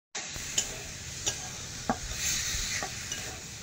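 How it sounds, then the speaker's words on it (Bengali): Jackfruit being stirred and sautéed with spices in a pan, with a low sizzle and a few sharp scrapes of a utensil against the metal at irregular intervals, close up and without talk. "এবার ভালো করে কষিয়ে দেবো"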